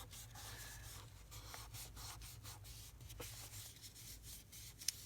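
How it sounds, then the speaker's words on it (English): Rubbing over paper to emboss stitching through a journal page, a quiet run of repeated brushing strokes in an even back-and-forth rhythm, close and soft with no voices. "I'm embossing the stitching through the page."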